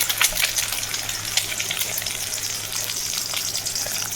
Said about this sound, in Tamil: தண்ணியே இல்லைன்னா தெரிக்குது காய்ஸ்